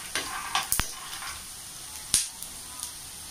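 Peanuts frying in a pan for Andhra-style tindora fry, a soft sizzle with scattered sharp pops and crackles spread across a few seconds, fairly close and not loud.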